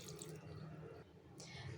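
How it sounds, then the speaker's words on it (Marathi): Water is poured into a pressure cooker holding dal, spinach, onion, tomato, salt and turmeric, making a soft, steady trickling splash that stays quiet and close throughout. "आणि पाणी टाकून घ्यायचं."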